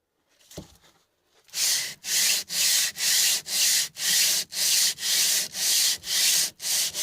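Rhythmic rubbing strokes of a hand plane over wood during restoration of a No. 5 plane, about a dozen steady even passes close up with short gaps, after a brief faint knock at the start.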